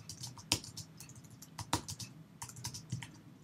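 Fingers type on a computer keyboard up close in a quiet room, irregular runs of light key clicks punctuated by a few sharper, louder strokes, with no one speaking.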